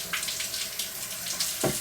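Tap water runs steadily from a faucet to warm water for a baby bottle, a continuous close splashing hiss with a brief heavier gush near the end and no voices.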